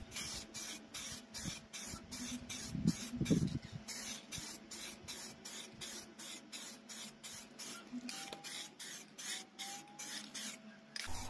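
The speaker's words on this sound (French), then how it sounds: "je commence par passer une couche d'après en bombe pour plastique" Aerosol spray can applying a coat of plastic primer to a 3D-printed part, heard as a long, steady hiss broken into regular short bursts, close and fairly quiet, with a few faint knocks partway through and no talk.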